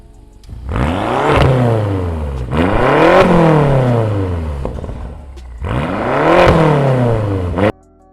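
A BMW X5 M engine revs hard three times on the road, each rise climbing in pitch then falling back, loud and close with a throaty roar, cutting off abruptly at the end.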